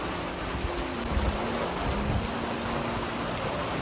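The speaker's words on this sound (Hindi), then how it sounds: "चारों तरफ बिल्कुल कोहरा छा गया बारिश के कारण, और झमाझम बारिश हो रही है।" Heavy downpour at a hilltop temple in Mukteshwar amid thick fog, a dense, steady roar of rain with no break, loud and close.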